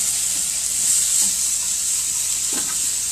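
Mahi fish fillets sizzle loudly in a hot frying pan for tacos, a constant bright hiss with soft scraping and tapping as pieces are stirred and flipped.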